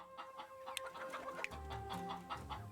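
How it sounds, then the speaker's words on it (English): Chickens cluck repeatedly in the city-building video game Laysara: Summit Kingdom, a busy run of short, close clucks with no talk over them. "Well, we got chickens"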